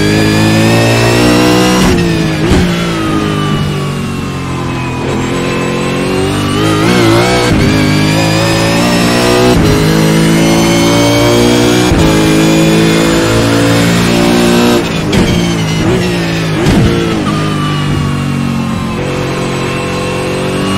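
V8 Supercars race cars lapping the Long Beach street circuit, loud sustained engine roar with rising and falling revs as several cars pass close by, continuous throughout with no talk.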